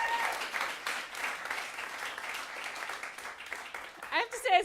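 An audience at a live comedy show in Seattle claps in a dense, lively round of applause. It runs throughout, and a voice speaks briefly at the end.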